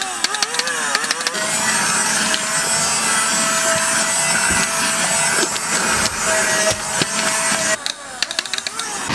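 A handheld mini vacuum cleans broken glass off a Nissan 350Z seat, its motor whining steadily and close for most of the clip, with rattling and scraping over the drone.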